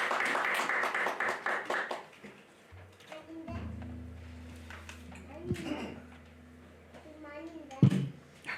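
A church congregation breaks into applause for a couple of seconds, a dense crackle of many hands, before it fades into quieter room sounds and talking voices.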